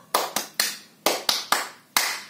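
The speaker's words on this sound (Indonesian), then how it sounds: "kita mau tepuk-tepuk dulu yuk" Children at a Sunday school clap their hands in a short, uneven sequence of seven sharp, close claps with brief gaps between them.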